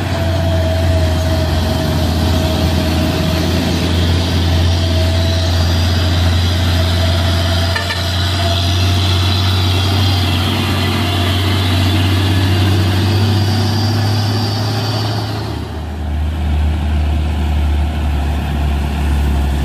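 Hino and Fuso trucks driving, a loud steady low diesel engine rumble with a high whine that rises and then drops off, continuous and close, no voices.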